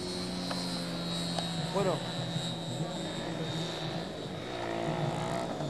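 A model airplane with a disproportionately oversized engine drones steadily throughout at a flying field, a continuous buzzing whine holding near and loud while people talk over it.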